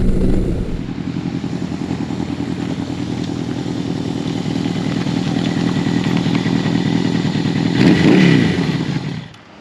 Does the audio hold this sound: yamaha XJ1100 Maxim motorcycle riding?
yes